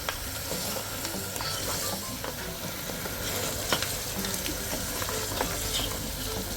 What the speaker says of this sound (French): On va continuer à laisser mijoter. On met vraiment au feu moyen.